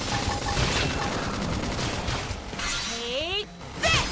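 Gunfire rattles in Xenoblade Chronicles X Definitive Edition, bursts of rapid shots and crashing impacts in a busy battle, with game effects sweeping through near the end.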